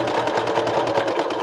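A sewing machine stitches silk in a brief, steady, close burst, its whirring motor continuous and even with no voice over it.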